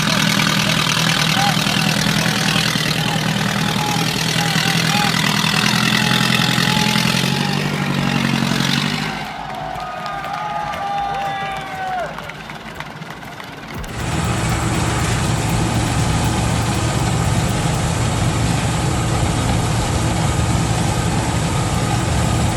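A chickpea harvesting machine roars at full throttle, a loud steady engine drone that dips and wavers midway with a few squealing whines before returning to a constant heavy run.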